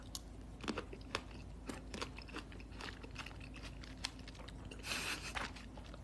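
Close, crunchy chewing with repeated crisp bites and crackles, steady and rhythmic, no talking, heard during a live stream.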